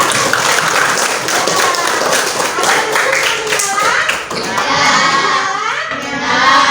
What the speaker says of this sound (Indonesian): Iya, tepuk tangan, lihat.